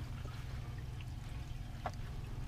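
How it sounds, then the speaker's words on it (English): Diesel siphoning from a can through a hose into the tank of a Class A RV, a low, continuous trickle and gurgle of liquid running steadily at close range. "It's siphoning all the diesel out and into the tank"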